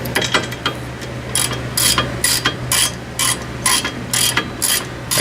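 A hand ratchet removes a car brake part in quick repeated bursts of sharp clicking pawl, loud and close, with brief pauses between strokes.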